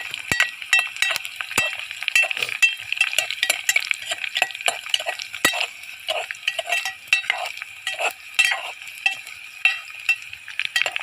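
Whole onions fry in oil in a pot at a farm, a soft sizzle running under frequent scraping stirs and metallic clinks of a spoon against the pan, close and busy, with no talking.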